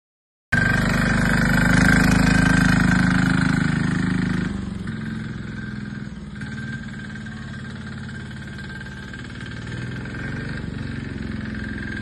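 A diesel mini bike engine runs steadily and close throughout a short ride, a loud, even putter that drops in level partway through and then holds.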